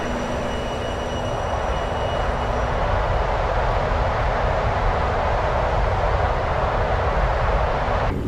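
The three jet engines of an MD-11F freighter in Microsoft Flight Simulator roar steadily at climb power, a loud, unbroken broadband rumble with a faint whining tone beneath.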